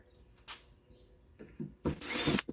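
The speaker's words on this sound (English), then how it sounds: "I'm going to install this backwards and drill the holes for the mounting hardware" A power drill boring holes for mounting hardware during a WaveRunner battery repair, heard as short bursts of whirring, with one longer, louder run near the end and quiet gaps in between.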